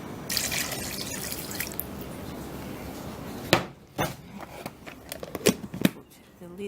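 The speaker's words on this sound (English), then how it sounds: "And add a little bit more water." Water is poured into a plastic salad spinner holding cloth pads, with a soft splashing trickle followed by sharper drips, clunks and handling knocks, close and fairly quiet.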